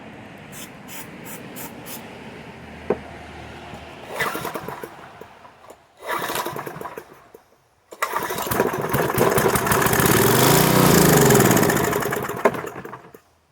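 A junkpile generator engine is cranked repeatedly and sputters, turning over in short attempts before catching into a loud, rough running roar for several seconds, then cutting out abruptly.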